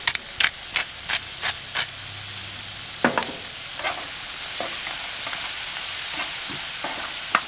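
Onions fry in butter in a pan with a constant close sizzle, while a utensil scrapes and taps against the pan in a quick series of knocks at the start and a few scattered strokes later.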